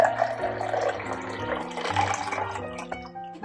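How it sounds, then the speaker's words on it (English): Carbonated Goslings ginger beer pours steadily from a pull-top can with a gurgling, fizzy trickle, fairly quiet and close, with no voices. "Just pour the rest out."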